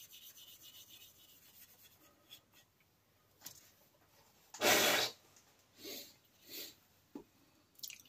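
An Opinel knife is rubbed down by hand to take off residue, giving a few short, close, dry scrubbing strokes, one longer stroke followed by two brief ones, quiet between them, with no talk.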